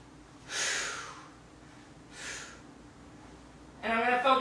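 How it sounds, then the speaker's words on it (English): Two forceful breathy exhales during a knee-drive exercise in ski conditioning training, close and fairly loud, a second apart, followed by the start of speech. "I'm going to exhale as I drive the knee up"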